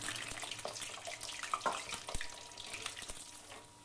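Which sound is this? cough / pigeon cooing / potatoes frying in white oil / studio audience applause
potatoes frying in white oil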